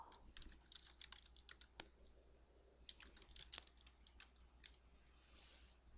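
Computer keyboard typing during spreadsheet data entry, including an Alt+Enter key combination: sparse, soft key clicks scattered over a quiet background, a few sharper taps standing out, no voices.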